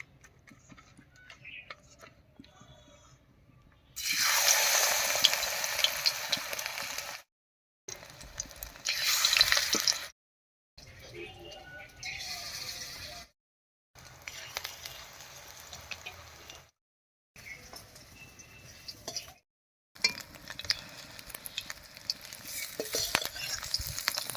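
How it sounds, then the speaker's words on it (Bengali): Sthal padma (land lotus) flower petals dipped in batter deep-fry in hot oil as Bengali bora fritters, a loud broadband sizzle that swells in bursts as batches go in, broken by short silences and quieter crackling stretches, with no talking. "এবার স্থলপদ্ম ফুলের বড়াগুলো ভেজে নিচ্ছি কয়েকটা করে ফুলের পাপড়ি নিচ্ছি নিয়ে এরকম ব্যাটারি ডুবিয়ে ডুবিয়ে ভেজে নেব"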